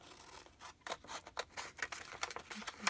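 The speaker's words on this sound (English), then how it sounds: "And then I just cut them out" Scissors snip through paper to cut out mixed media borders for journals and postcards, a close, quiet run of crisp irregular snips and rustles with no voices.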